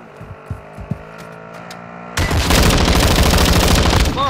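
Heavy automatic gunfire erupts midway in the DMZ video game, a loud sustained burst of rapid shots aimed at an enemy operator, following a few faint scattered shots and quiet ambience.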